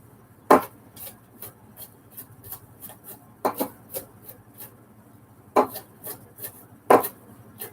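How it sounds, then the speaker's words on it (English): A dull kitchen knife chops onion on a board for a homemade garden-vegetable keto sauce: four sharp, loud chops spaced irregularly among lighter, quicker cutting taps, close and with no talk. "I'm going to chop this down a little bit more"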